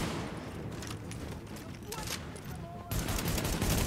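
Rapid gunfire from The Division, sustained bursts of automatic shots crackling steadily at moderate distance, growing louder and denser near the end, with someone talking over it.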